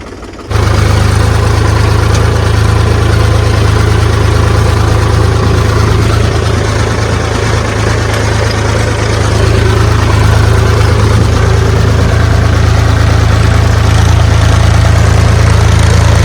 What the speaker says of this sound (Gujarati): આ ખેડકામ કરવા માટે આ ટ્રેક્ટર લઈને આવેલા છે